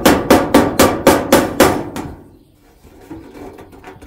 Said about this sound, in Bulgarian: Ето и чук имаме.